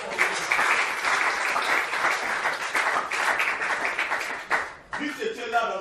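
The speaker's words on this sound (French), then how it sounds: "Acclamons la présence de Dieu." A church congregation applauds together in sustained, dense clapping that fills the space, with a brief dip near the end before scattered claps and voices resume.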